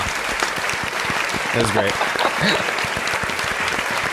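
Steady audience applause runs throughout, with people talking briefly over the clapping.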